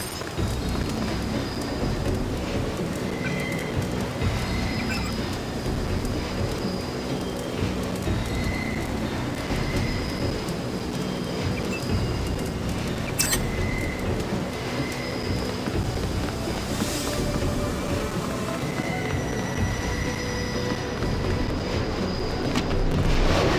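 A train runs in the video game Deus Ex, a steady broadband rumble and rattle that carries on without a break, close and fairly loud, with faint repeating tonal squeals riding over it.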